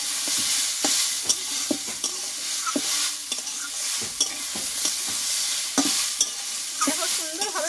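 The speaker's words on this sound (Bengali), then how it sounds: "দেখো সুন্দরভাবে কিন্তু কষানো হয়ে গেছে কুমড়োটা আমার" Ash gourd and potato, cut fairly thick, sizzle and fry in a pan while a spatula scrapes and stirs in repeated sharp strokes, and the oil crackles and bubbles near the end.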